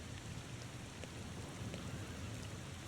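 Steady rain in the video game The Thaumaturge, a soft, even broadband hiss with a low rumble beneath, constant and fairly quiet, with no talking.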